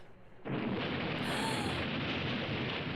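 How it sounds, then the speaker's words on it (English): A sudden explosion in a Nancy Drew video game, a broad roaring blast that hits abruptly after a quiet moment and then sustains as a heavy, rumbling wash of noise. "There's been an explosion."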